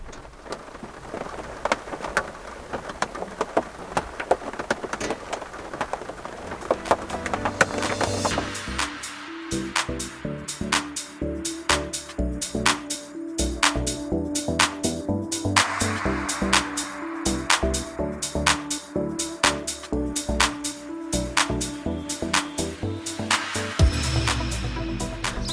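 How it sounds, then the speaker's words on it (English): Steady rain falling at a lakeside, a dense continuous patter that holds at an even, fairly loud level throughout, with scattered heavier drops striking a surface nearby and no voices. "But listen to this rain!"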